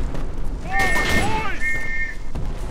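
Grenade explosions in the World War I shooter Verdun, with deep booms layered under whistling shells and battlefield din.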